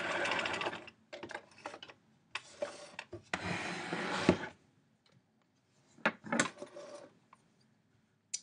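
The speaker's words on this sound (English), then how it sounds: "I'm going to back stitch a couple stitches at the end" Sewing machine mending a tear, with short bursts of whirring stitches broken by pauses, ending in a quick back stitch of a couple of stitches, quiet and close.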